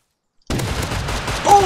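Gunshots in the survival game Rust begin abruptly after a brief silence, then continue as a dense, steady fusillade to the end.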